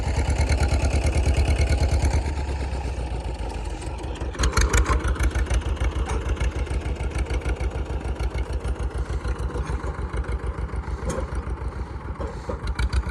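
A tractor engine runs during pipeline work, a close, steady rhythmic chugging that grows louder and throbs more strongly after a few seconds.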